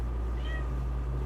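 A tabby cat gives a single short meow over a steady low hum, faint and brief.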